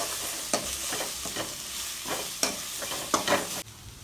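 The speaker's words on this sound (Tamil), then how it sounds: "பூண்டு, ஜீரகம், மிளகு, சோம்பு, மிளகாய் போட்டு நல்லா வதக்கிக்கலாம்." Garlic, cumin, pepper, fennel and chili sauté in a little oil for a manathakkali keerai rasam, with a soft sizzle broken by repeated stirring scrapes of a spoon in the pan, close and moderate.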